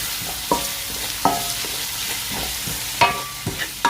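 Chopped onions frying in oil for masoor dal, a constant sizzle broken by several sharp clinks and scrapes of a spoon against the pot as they are stirred, close up with no voices.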